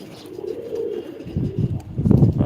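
A pet pigeon coos up close, soft low throaty calls that grow louder and more insistent toward the end, with no talking.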